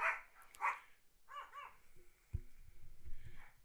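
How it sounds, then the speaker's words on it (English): Pomeranians and a Great Pyrenees bark in a few sharp, close bursts indoors, followed by quieter whimpers and low scuffling. "Hush up, dogs."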